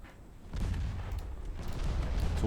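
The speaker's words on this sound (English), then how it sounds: "Torpedoes going every which way." Deep, rumbling booms and muffled detonations from a naval battle in a strategy video game, with torpedoes and ship fire blending into a steady low roar that swells after a quiet start.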